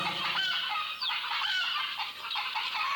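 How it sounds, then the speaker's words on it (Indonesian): Chickens cluck noisily and continuously at close range, a busy overlapping chorus of squawks with no talking. "Ayam berisik amat."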